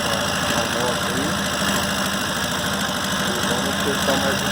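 A Yamaha Fazer 250 motorcycle engine idles while misfiring with internal mechanical noise: a steady, close, rough running sound with irregular knocking pulses throughout and no clear speech.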